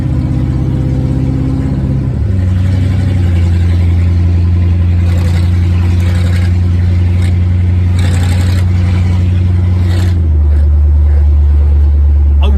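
A 1968 Lincoln Continental engine fitted with Holley Sniper EFI runs loud and close, its deep, steady drone shifting in pitch as it revs up and settles, with the exhaust note dominating throughout.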